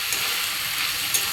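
Ground cumin and spices frying in a raw banana curry in a pan, a steady close sizzle with faint crackles and no talking.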